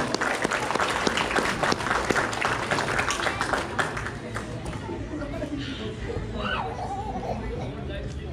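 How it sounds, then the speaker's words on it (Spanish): Crowd applause at a quinceañera celebration, a dense wash of clapping mixed with chatter and children's voices, then fading into general party noise as someone speaks over it. "¡Fuerte los aplausos, mi gente!"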